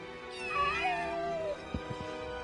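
A cat in Final Fantasy VII Rebirth gives a long, drawn-out, wavering meow, loud and close, followed by a few soft thuds, with no talking.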